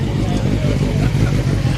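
Mercedes-AMG GT at a street-night drag racing event at Orlando Speed World, giving a brief, loud, low engine rumble close by, with background noise and voices mixed in.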